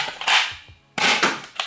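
Nerf Zombie Driller blaster firing, two sharp snapping air-burst shots about a second apart, each followed by a brief rattling tail, loud and close.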